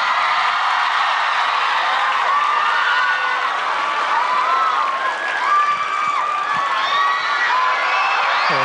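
A concert audience at The Star 6 final applauds and cheers for a contestant's father, a dense continuous roar of clapping with whoops and shrill shouts rising over it, loud and sustained throughout.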